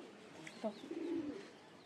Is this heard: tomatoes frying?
no